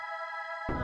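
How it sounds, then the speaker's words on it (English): A short, faint electronic tone, the player's shooting sound in a 2D fantasy shooter game, rings steadily, then cuts into a brief burst of hissy noise like an arcade blast. "The sound effect for the player's shooting sounds like this."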